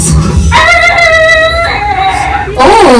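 A voice imitates a steam train whistle: a sustained, harmonic two-part hoot lasting about two seconds, shifting pitch midway, followed by the start of talking.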